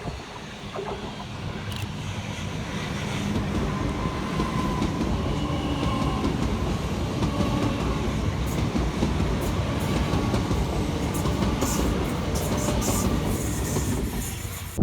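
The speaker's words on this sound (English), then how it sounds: "Whilst passing through on the fast line slowly is 377447 and 377142" Two Class 377 electric trains roll slowly along the fast line through Purley station in South London, a close, continuous rumble of wheels and rail clatter with sharp metallic clicks and squeals.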